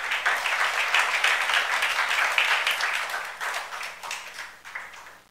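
A church youth-service congregation claps together during a sermon, a dense, loud burst of applause that swells and then gradually tapers off, with no voices over it.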